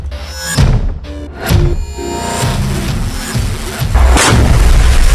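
A half-ton explosive strike on Israeli border positions sets off heavy, loud booms, with several deep thuds and rumbling blasts rolling one after another.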